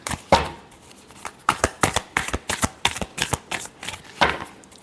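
Tarot cards being shuffled by hand in a series of crisp riffling bursts, close and fairly loud, with short gaps between passes and no talk.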